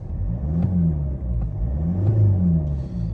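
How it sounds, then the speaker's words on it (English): A 2008 Mercedes C220 CDI Sport estate (W204) diesel engine revs up twice in quick succession, close by and steady, with a low rumbling idle between the two rises and no talking. "I'll give it a quick rev for you."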